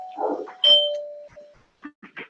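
A doorbell rings, a single two-tone chime with a sustained tone fading out, followed by a few faint short knocks or clicks.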